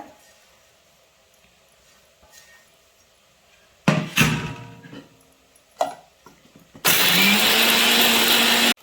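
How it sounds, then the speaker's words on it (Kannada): A kitchen mixer grinder blending coriander leaves for mutton keema: a few scattered knocks and clatters, then a loud, steady, high whirring grind that runs for the final two seconds. "ಕೊತ್ತಂಬರಿ ಸೊಪ್ಪು ಕಟ್ ಮಾಡಿ ಹಾಕ್ಬೋದು, ಆದರೆ ನಾನು ಮಿಕ್ಸಿಗೆ ಹಾಕ್ಬಿಡ್ತಾ ಇದ್ದೀನಿ"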